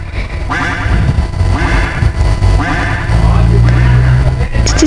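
Ducks quack in loud, raspy bursts, several calls in a row close by, with faint voices and outdoor noise underneath.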